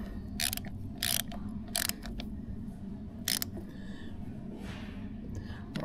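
A ratchet wrench tightens a bolt on a Cummins 6BT 5.9 12-valve diesel engine, making several short, close clicking bursts separated by pauses over a steady background hum.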